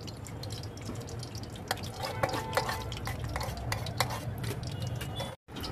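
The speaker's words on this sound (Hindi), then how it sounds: "इसमें हम घी डालेंगे, आप कोई भी घी इस्तेमाल कर सकते हैं जो आप खाते हैं" Ghee going into a pot for masoor pulao and being stirred, a steady wet scraping and stirring with small clinks of a spoon against the metal, close and continuous with no talking.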